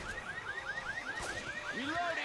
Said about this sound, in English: They manage to set the ATM alarm off.